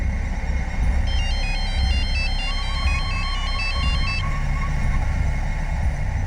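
A phone ringing with a rapid electronic warbling tone in short repeated bursts for about three seconds, heard over a steady low engine-like rumble.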